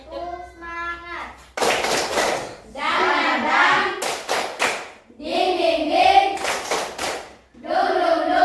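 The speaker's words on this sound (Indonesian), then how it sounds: "Tepuk semangat." Standing students in a classroom perform a rhythmic group clapping chant, with bursts of synchronized claps alternating with shouted chanted phrases and brief pauses, loud and close.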